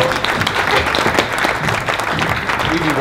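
Dense applause from a crowd at a lively show, a steady wash of clapping lasting throughout with voices mixed in.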